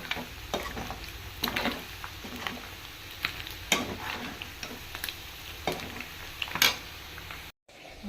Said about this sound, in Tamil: இறால் பொரிக்க சொல்ல தெரிக்கிருக்காங்க